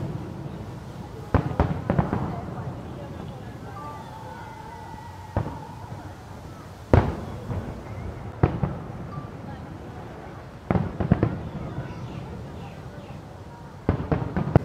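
Fireworks launched from a barge at sea in Macau burst at a distance: scattered loud booms and crackles spread over a steady outdoor background, with people talking in between.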